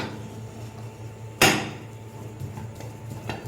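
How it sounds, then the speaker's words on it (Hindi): A single sharp metallic clunk as the lid of a pressure cooker holding mutton biryani is shut, near and loud, followed by a few faint knocks and clatters in a quiet kitchen. "इसको ऊपर से हमने बंद कर देना है कुकर को अच्छी तरह से"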